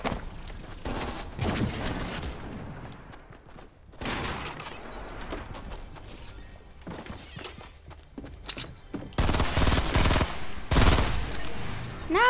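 Fortnite gunfire crackles in dense bursts of rapid shots that come in several loud clusters between quieter moments, with footsteps and a thud or two mixed in.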